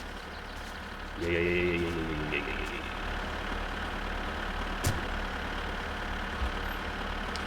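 Tractor engine in the video game My Summer Car idling with a steady low rumble and a brief higher revving whine early on, a sharp clunk near the middle, and a single short spoken word over it.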